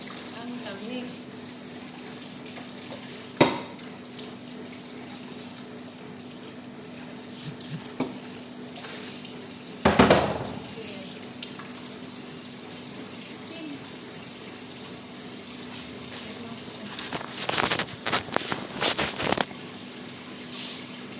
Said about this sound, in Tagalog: Ang dami pong hugasan. Sa malamig na tubig.